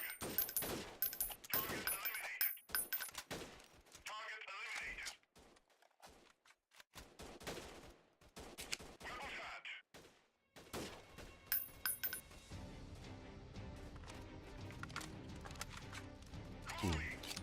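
Gunfire in Freeman: Guerrilla Warfare, bursts of rapid shots and scattered cracks in a town defense battle, some close and loud, some farther off, ending in a steady rattling barrage, with a voice speaking briefly.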